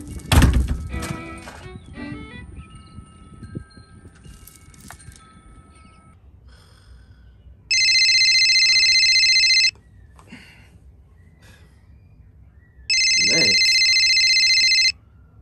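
A telephone rings in two separate bursts during a call to dad. Each burst is a loud, steady electronic tone lasting about two seconds, with quiet room noise and faint knocks in between.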